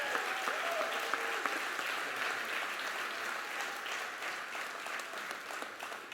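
A large audience at a police department awards ceremony applauds an officer named Field Training Officer of the Year, with dense, steady clapping throughout and little talk.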